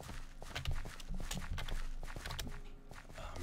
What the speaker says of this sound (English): the noise the marsh makes, it makes your footsteps that much more annoying